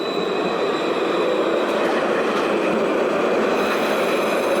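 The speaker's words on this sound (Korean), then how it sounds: "트램이 지나가는데 이렇게" A tram in Bordeaux, France rumbles steadily past close by, a continuous loud rolling roar with faint metallic squeal from the wheels, no voices.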